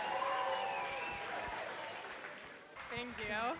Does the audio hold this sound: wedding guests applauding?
yes